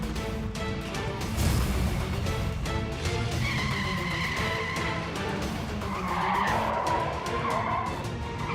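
Tires squeal in a long, sustained skid over a rumbling car engine, loud and close, with the screech rising and falling for several seconds.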